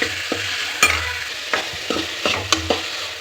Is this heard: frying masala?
yes